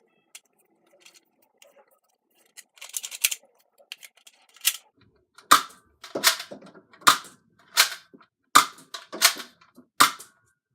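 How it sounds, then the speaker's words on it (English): A Nerf Accustrike Quadrant blaster fires its stock Accustrike darts outdoors on a range: a series of sharp, close pops, first a few scattered shots and then about eight evenly spaced loud cracks with no voice. "Firing the Quadrant with the darts it came with"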